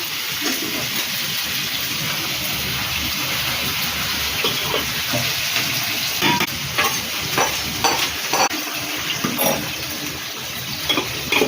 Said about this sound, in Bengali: এবার ওই তেলে ক্যাপসিকামগুলো ভেজে নেবো